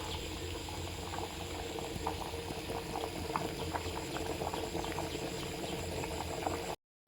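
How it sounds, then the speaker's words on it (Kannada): Rice water bubbles at a vigorous boil in a pot for egg biryani, a steady close rumble of popping bubbles that cuts off abruptly just before the end. "ನೋಡಿ, ಈಗ ಚೆನ್ನಾಗಿ ಕುದಿ ಬರ್ತಾ ಇದೆ"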